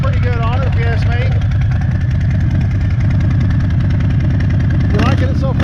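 A Harley-Davidson Fat Boy motorcycle engine runs at a steady, loud, close idle throughout, with a deep, even rumble.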